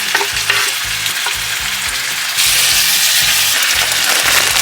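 Six tomatoes hit hot oil in a pan for a large Diwali house-party dish, giving a loud, steady sizzle and fry with regular stirring and scraping knocks, the hiss growing brighter and fuller halfway through.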